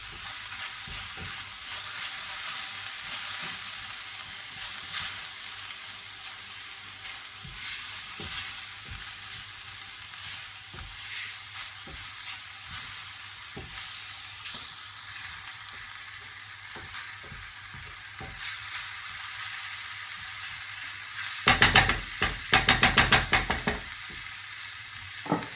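Chicken pieces fry in curry powder in a drying pan, giving a steady close sizzle with occasional stirring scrapes, then a burst of louder crackling near the end.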